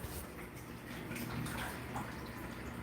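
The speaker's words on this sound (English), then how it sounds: "I do have to turn some water off as I am washing clothes." Water runs steadily during clothes washing, a soft continuous splashing hiss with no voices.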